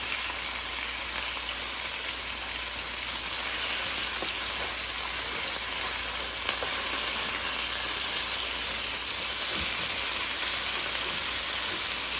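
Meatballs frying in a pan, a steady, bright sizzle with crackling oil spatters that continues evenly and close-up throughout, with no talking over it.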